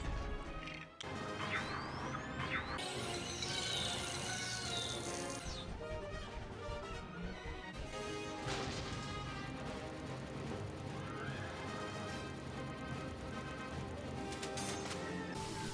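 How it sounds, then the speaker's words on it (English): A sharp glass smash in the LEGO Batman video game as the supersonic suit breaks open a case, followed by game effects and background music continuing. "use the supersonic suit to break open the glass and collect it"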